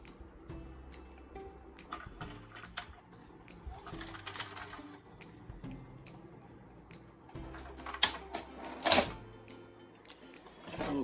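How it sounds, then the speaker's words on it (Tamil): A Sony SLV-ED40PS VCR ejects a cassette with a series of faint mechanical clicks, whirs and clunks from the tape transport, quiet and close, with occasional soft room noise. "இப்போ வந்து நம்ம எஜெக்ட் ப்ரெஸ் பண்ணுவோம்."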